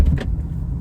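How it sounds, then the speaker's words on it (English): A manual-transmission car's exhaust rumbles low and steady as the car begins rolling forward in first gear, with a brief brighter mechanical whir near the start and no talk. "You'll hear the exhaust change, and now we're rolling."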